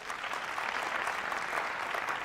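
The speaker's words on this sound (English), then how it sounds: "Give yourself a really big round of applause." Graduates at a multicultural university graduation celebration give themselves a big round of applause, a dense, steady wash of clapping from a large indoor crowd.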